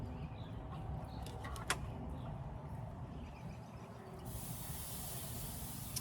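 Steady sizzling hiss of meat searing on a hot grill, continuous and close, with a brighter crackling rush joining partway through.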